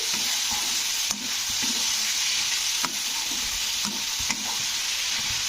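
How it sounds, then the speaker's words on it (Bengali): Brinjal and peas stir-fried with turmeric and chili powder, a loud, steady sizzle with periodic spatula scrapes and clacks against the pan. "এক চামচ লঙ্কার গুঁড়ো দিয়ে এবারে এটাকে আবারও কষে নিতে হবে"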